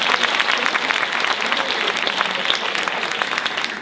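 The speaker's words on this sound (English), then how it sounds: "Can we have a round of applause for those guys?" Steady, dense applause from an audience at a high school alumni reunion, filling the space with continuous clapping that holds an even level throughout and has no talk over it.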